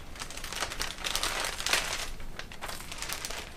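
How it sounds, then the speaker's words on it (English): Thin plastic pouch crinkling steadily as a Star Brite No Damp moisture absorber is pulled out of it, a close, continuous rustle with a few sharper crackles along the way. "take it out of the box, remove it from the plastic pouch"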